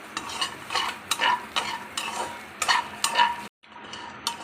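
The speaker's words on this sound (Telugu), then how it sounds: "ఇది లైట్గా ఫ్రై చేసుకోవాలండి పచ్చి కొబ్బరిని." Small pieces of fresh coconut fry lightly in a pan, a rhythmic series of scraping spatula strokes over a soft sizzle, close and fairly loud, ending in a brief pause.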